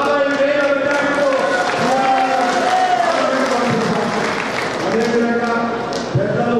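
Loud, sustained applause and crowd cheering at a Congress party preparatory meeting in Dharpally, with a voice calling out over the clapping and the roar holding steady throughout.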